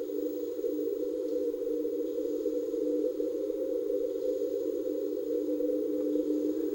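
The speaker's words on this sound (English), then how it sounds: "what we're hearing are these spectra morphing that oscilloscope bank very subtly" A multi-bank oscillator plays the sun's light spectrum converted into frequencies, a steady unbroken drone with a single bright band that morphs very subtly and evenly throughout.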